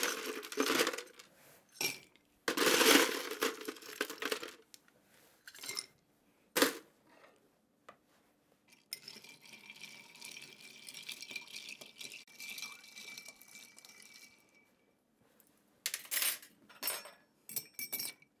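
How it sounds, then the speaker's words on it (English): Ice cubes are dropped and rattled into glasses for late-1800s whiskey cocktails, with clustered clinks and clatters in bursts separated by quiet gaps and a softer stretch of jostling in between. "Let's ice these glasses"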